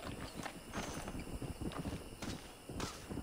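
Horse hooves clip-clopping steadily in the video game Red Dead Redemption, a quick, even rhythm of hoofbeats close by, loud and continuous with no talk over them.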